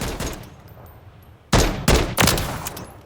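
Three sharp, loud gunshots from a .50 cal Beowulf rifle in Call of Duty Modern Warfare III, fired in single-fire mode and spaced roughly a third of a second apart, after a stretch of low ambient game noise.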